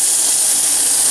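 Onions dropped into a hot pan for pork in soy sauce give a steady, close, bright sizzle and hiss that holds evenly throughout, with no voices over it.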